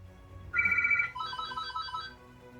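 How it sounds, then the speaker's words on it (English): A telephone rings in a room, giving one bright electronic ring burst followed by a second, warbling ring pattern, clear and fairly loud over a quiet background. "The phone rang."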